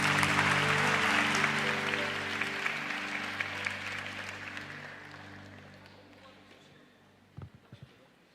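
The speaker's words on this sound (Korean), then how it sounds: "오늘의 설교자 조현성 목사님 우리 박수로 맞이해서 말씀 듣겠습니다" A church congregation at a Thursday worship service claps to welcome the preacher, a loud broad burst under a sustained organ-like chord that fades gradually over several seconds, ending with a few sharp knocks.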